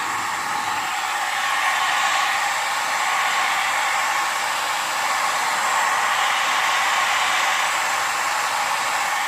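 A hair dryer on low heat blows steadily and loudly at close range for the whole stretch, melting ice off the frozen coil of a Kenmore dehumidifier.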